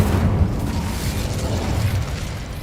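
Incendio fire spell cast in Hogwarts Legacy, a loud, dense whooshing burst of flame with a rumbling low roar that holds steady for a couple of seconds.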